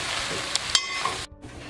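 Spinach sautéing in a pan with a steady, close hiss of sizzling, broken by a few soft clicks of stirring and a brief dip near the end.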